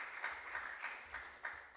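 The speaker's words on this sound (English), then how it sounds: "a round of applause for Kojo" Audience at a junior science and maths quiz clapping for a contestant, faint rapid applause pulsing in short bursts throughout, distant with no talk over it.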